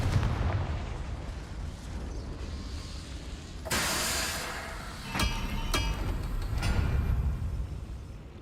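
Confringo fire spell blasts in the Hogwarts Legacy video game, a loud burst of explosion followed by sharp crackling booms and rumbling aftershocks over continuous game ambience.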